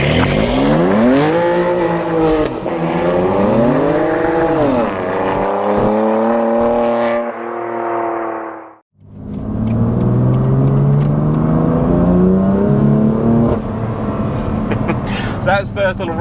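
Twin-turbo BMW M2 Competition with a custom map pulling hard in a roll-on, engine note climbing through the revs, a brief gap at a gear change, then surging again, loud and close.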